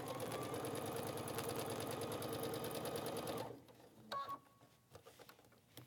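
A sewing machine stitches a mini quilt in a fast, steady, near rattle for several seconds, then stops abruptly, leaving a few small clicks and handling sounds.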